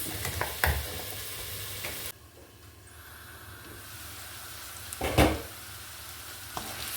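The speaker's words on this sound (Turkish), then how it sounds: "Soğanlar biraz sotelendi. Etimiz de suyunu çekti ve güzelce sotelendi." Onions and meat sauté in a pan for an İzmir-style artichoke stew, with a steady sizzling hiss broken by a few clattering stirs of the utensil against the pan.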